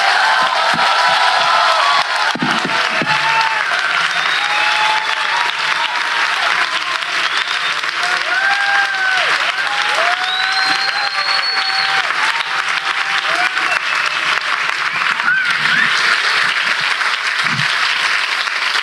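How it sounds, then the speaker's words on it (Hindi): A church congregation claps and cheers for the Lord during a Hindi worship service, sustained loud applause filling the room throughout with scattered shouts and whoops rising above it. "आइए हम अपने प्रभु के लिए एक अच्छी ताली बजाएंगे।"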